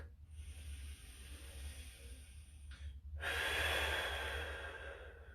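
Slow, deep breathing during a static stretching routine with a stick or pole, soft airy inhales and exhales over a low steady hum, growing louder toward the end, with no talk.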